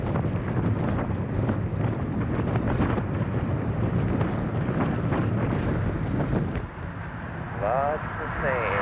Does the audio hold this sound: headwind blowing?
yes